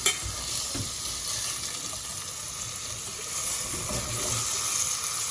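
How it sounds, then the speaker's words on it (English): Onions sautéing in a pot for layered mutton biryani give a steady, moderately loud broadband sizzle with stirring scrapes, continuing alone throughout. "So we're going to saute the onions"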